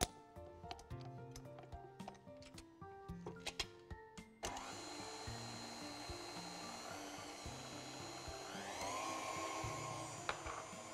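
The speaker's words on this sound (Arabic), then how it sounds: "خلاص هنخفقهم بقى مع بعض شوية" Electric mixer whisking lemon cake batter. Faint clicks and knocks come first, then the motor starts with a sudden steady whirr that runs on continuously, growing slightly louder near the end.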